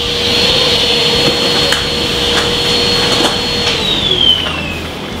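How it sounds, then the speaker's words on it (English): A vacuum cleaner runs over a Ford RS200 chassis tub of rivets and honeycomb in a workshop, giving a steady, loud, close drone with a whine that shifts downward near the end. "Next, I am going to get the vacuum cleaner on it."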